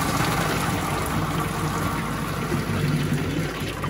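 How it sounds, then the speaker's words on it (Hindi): Hot water poured off boiled cauliflower pieces while draining the pot in a home kitchen, a continuous loud gushing and splashing stream lasting a few seconds with no talk. "अब मैं इसे ऑफ कर दूँगी और इसका पानी निकाल दूँगी।"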